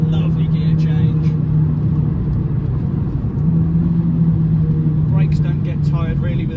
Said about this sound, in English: Find the apex into third again, tricky gear change into fourth, lovely gear change.